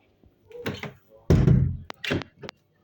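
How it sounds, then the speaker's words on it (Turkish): A door opening indoors, with a loud wooden thunk and rattle mid-clip followed by shorter knocks and creaks, preceded by a brief muffled sound; no speech over it. "Kapı açılıyor yine."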